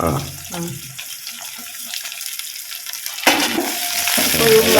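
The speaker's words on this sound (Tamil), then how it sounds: "நல்லா பொன்னிறமாக வதக்கிக்கலாம்" Peanuts, dried chilli, garlic and curry leaves fry in a pan, with an oily crackle and faint stirring, a quieter stretch in the middle, then a louder burst of sizzle near the end.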